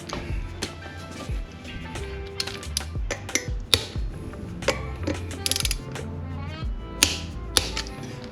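A torque wrench tightens the front brake rotor bolts on a Suzuki TL1000R motorcycle. Close ratcheting clicks come in repeated bursts, with sharp metallic taps and clatter between them.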